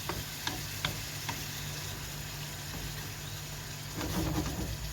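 Minced meat with tomato and onion fries in a pan with a steady crackling sizzle, a few sharp pops and a louder burst near the end.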